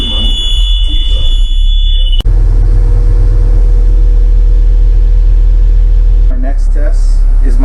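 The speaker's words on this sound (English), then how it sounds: "I need to start my engine and rebuild air pressure." A school bus diesel engine starts with a sharp jolt, then runs at a steady loud idle with a constant low rumble, a high whine, and a shift in tone near the end.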